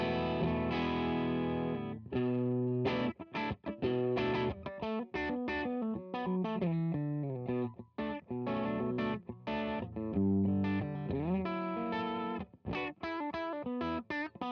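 Electric guitar through a Fulltone Mas Malo pedal set to light overdrive crunch, neck pickup, playing a steady run of picked notes and chords, loud and close with no talk.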